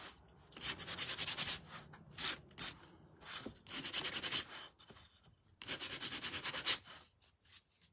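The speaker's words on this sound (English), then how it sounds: "I sometimes end up sanding there" Rough, rhythmic hand-sanding strokes rasp against the edges of a wooden shelf sitter in several bursts of back-and-forth scrubbing, close and loud, separated by brief pauses.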